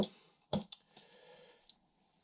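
A large bunch of keys carried alongside a handcuff key gives a few sharp, close metallic clinks, with one strong jingle near the start and a couple of lighter taps later.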